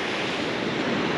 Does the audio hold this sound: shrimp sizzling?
no